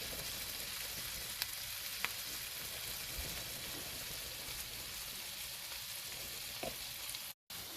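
Stuffing ingredients sizzle in a frying pan for a holiday dressing recipe, a quiet, continuous crackle with a few faint ticks and pops. The sound cuts out briefly near the end.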